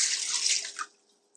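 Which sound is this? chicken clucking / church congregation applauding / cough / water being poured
water being poured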